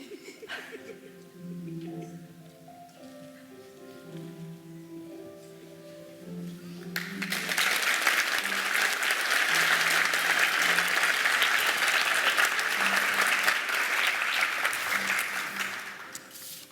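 Audience applause at a nursing pinning ceremony at Nashville State Community College, bursting in loud and sustained after about seven seconds of quieter speech and murmuring, then holding steady as a dense wash of clapping before easing slightly at the end.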